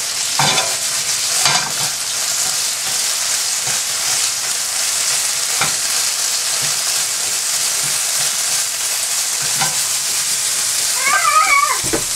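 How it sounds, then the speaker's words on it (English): Salmon sizzles steadily in a frying pan while being coated in leftover sticky Indonesian sauce, with occasional scraping stirs and a faint meowing cat near the end; no talking. "I'm going to just coat them in whatever sauce is left in my frying pan"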